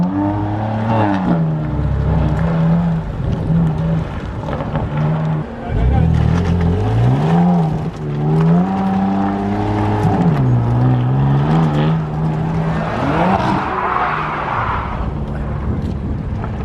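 An M car weaves through a cone slalom section on a driving track, its engine rising and falling steadily in pitch with each turn, loud and continuous for the whole stretch, with voices likely talking over it.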